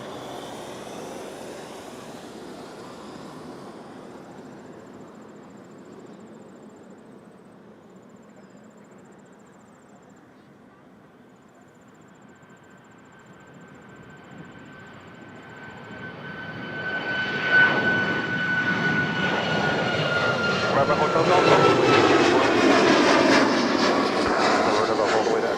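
WestJet Boeing 737 MAX 8 jet taking off at Toronto airport, its engine roar starting distant and steady, then swelling into a loud, close, broadband rush with a rising whine over the last stretch.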